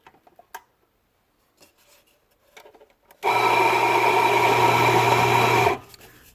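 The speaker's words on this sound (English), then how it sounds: "grind and throw away 2 shots worth" A Casadio espresso grinder grinds coffee in one loud, steady whirring burst of about two and a half seconds, close up, after light clicks and handling noises, then stops abruptly.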